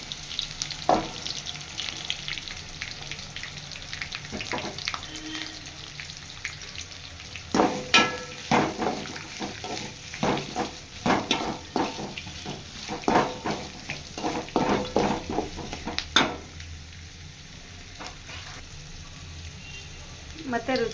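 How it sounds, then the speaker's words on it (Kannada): Onion and green chilli frying in a pan for lemon rice, after mustard seeds and cumin, with a soft sizzle that grows busier with irregular stirring and clattering strokes mid-way, close to the listener. "ಇವಾಗ ನಾನು ಈರುಳ್ಳಿ ಮತ್ತು ಹಸಿಮೆಣಸಿನಕಾಯಿ ಹಾಕೋತಾ ಇದ್ದೀನಿ."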